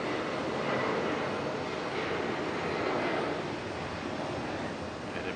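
An Aeromexico Embraer E175 jet passes at an airport, giving a loud, sustained broadband engine roar that holds steady and then eases slightly toward the end.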